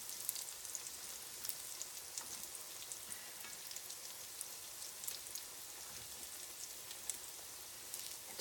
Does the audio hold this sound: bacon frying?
yes